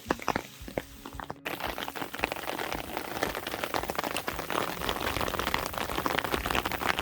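Hail and rain pelting a Colorado hiking trail during a cold storm, a dense steady patter of many drops and small impacts that starts after a brief quieter moment and stays loud and continuous throughout.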